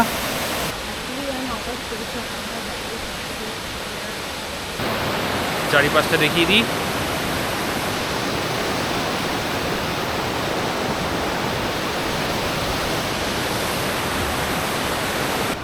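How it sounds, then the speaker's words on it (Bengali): Steady broadband roar of rushing water from a waterfall close by on a rainy mountain trail in Meghalaya, with a person speaking briefly early on and a short rattling sound midway. "পুরো এখানে রয়েছে ঝর্ণা"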